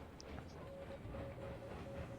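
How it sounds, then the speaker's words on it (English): A train rolls along in the railway game Railroads Online, heard as a faint, low rumble with soft, sparse clicking of wheels on track and a thin whistle-like tone. "And my train just went in the spawn area."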